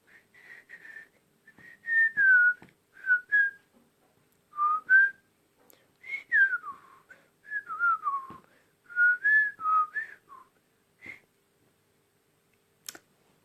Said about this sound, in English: Nice whistling there.